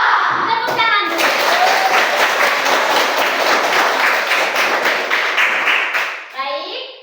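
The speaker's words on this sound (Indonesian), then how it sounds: "Tepuk tangan dulu." Children clap together in a classroom at a teacher's cue, a loud, rapid, sustained burst of many small hands, with a few young voices at the start and end.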